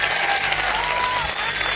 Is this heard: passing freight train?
no